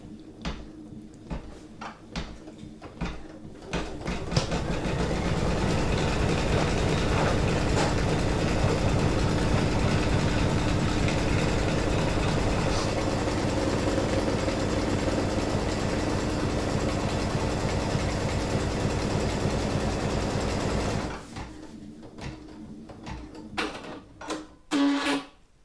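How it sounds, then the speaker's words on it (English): An embroidery-capable sewing machine stitches an in-the-hoop project from a PES file, starting with a few clicks, then running in a steady close mechanical hum for about fifteen seconds before stopping into scattered clicks and clunks. "hopefully when this sews this together in these 2 places, it's going to sew nice and neatly"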